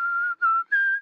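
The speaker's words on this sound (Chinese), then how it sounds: "我在吹口哨呢。" Cartoon pig father whistles while reading his newspaper, three sustained clear whistled notes in a short melodic line, close and alone.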